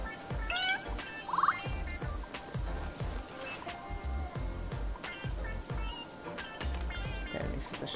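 A cat meows once, short and rising, in the puzzle video game Időutazó Macskuszok, heard over a steady rhythmic game soundtrack.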